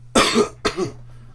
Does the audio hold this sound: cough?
yes